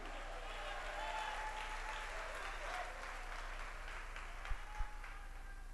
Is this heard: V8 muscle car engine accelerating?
no